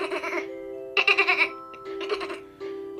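A child imitates a penguin with high, bleating, goat-like vocal bursts in several short separate calls.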